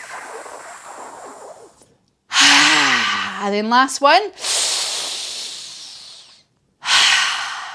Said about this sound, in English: So what we're going to do is take a big deep breath in through our tongue or our teeth like this.